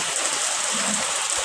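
Heavy rain pours steadily in a broad, constant hiss of drops striking surfaces, close and fairly loud, with no voices over it.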